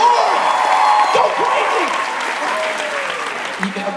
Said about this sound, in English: Round of applause. Louder. More.